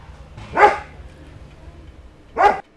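A dog gives two sharp, separate barks about two seconds apart, close and fairly loud, over a faint low background hum.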